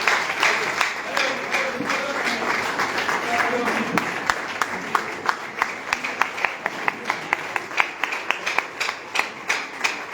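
Steady crowd applause at a business gathering, dense and continuous at first, then breaking into sharper, evenly spaced claps that stand out as individual hands near the end.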